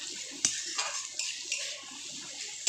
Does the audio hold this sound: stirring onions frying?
yes